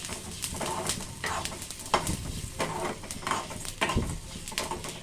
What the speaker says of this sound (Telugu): ఇవన్నీ వేయించుకుంటాం. ఫస్ట్ కొంచెం ఫ్రై చేసుకుందాం.